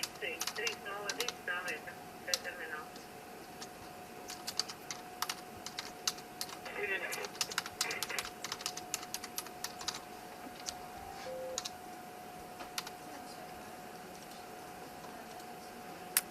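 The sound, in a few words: typing a message on aircraft ACARS system keyboard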